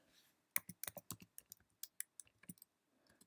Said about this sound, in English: I double click here and make